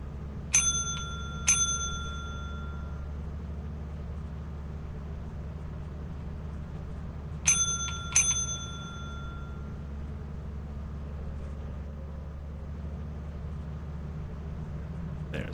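A bright bell chime made for a Twitch channel point alert rings twice, each time as a quick double strike, then rings out and fades over a steady low hum with no voices.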